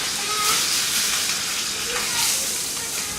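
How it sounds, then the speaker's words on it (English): Food searing in a hot pan in a home kitchen gives a steady broadband sizzle and hiss, moderately loud and continuous, with faint background voice. "All right, they have been searing."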